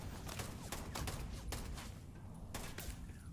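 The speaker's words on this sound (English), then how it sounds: "Why are you shooting with a pistol, you dumbass?" Pistol gunfire in the Starfield video game, a series of sharp shots with brief gaps between them, at a moderate distance over a dense, noisy backdrop of combat.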